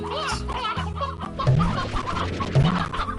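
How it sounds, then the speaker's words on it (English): Briar hens cluck repeatedly in the video game Slime Rancher, a busy, close flock of chicken-like clucks and squawks layered over game background sound. "Briar hens."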